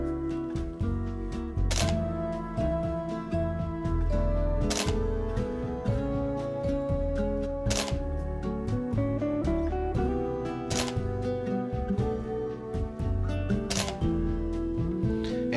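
A Canon 20D DSLR body fires its shutter on a remote timer, sharp mechanical clicks recurring about every three seconds, close and distinct over steady background music.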